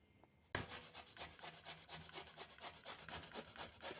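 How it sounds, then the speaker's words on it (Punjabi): A pumpkin being grated by hand, a close rhythmic scraping rasp that starts abruptly and repeats in steady strokes about four times a second. "ਹੁਣ ਆਪਾਂ ਕਸ਼ ਕਰ ਰਹੇ ਹਾਂ ਇਹ ਕੱਦੂ ਨੂੰ"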